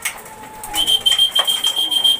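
Pigeon hens coo softly inside a loft, with a short low throaty call and some rustling and fluttering nearby, joined by a thin high whistling tone.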